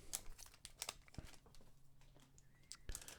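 A One Piece trading card booster pack is torn and crinkled open at close range, giving a quiet run of sharp crackles and rips with short pauses between them.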